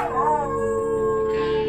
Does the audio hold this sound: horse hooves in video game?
no